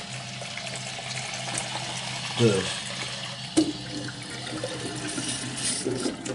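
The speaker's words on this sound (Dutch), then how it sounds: "Ga even water vullen." Water runs from a household tap into a container being filled for coffee: a soft continuous splashing flow under room noise, with a couple of clunks and a short spoken word.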